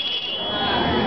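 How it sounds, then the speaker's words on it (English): A wireless switch alarm control device rings its alarm, a loud continuous buzzing tone held steady without a break. "at 5 o'clock, the alarm will run and the lamp will be on"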